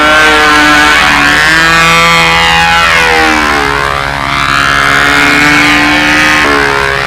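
A control-line model aircraft engine screams at high pitch on a practice flight, loud and continuous, its tone rising and falling as the plane circles toward and away.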